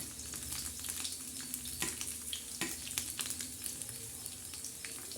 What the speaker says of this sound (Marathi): असे बोंबील भाजून घ्यायचे कच्चे नाही ठेवायचे